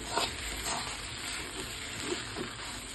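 A soft, steady sizzle of vermicelli frying in a pan, with light, sparse stirring scrapes close by. The layer stays fairly quiet and even, and no voices are heard.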